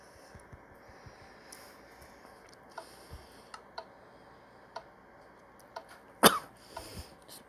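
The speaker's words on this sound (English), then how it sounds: "Excuse me, coughing." One short, fairly close cough near the end of a Minecraft survival game on the CubeCraft server, over a quiet background of faint clicks and keyboard-like taps.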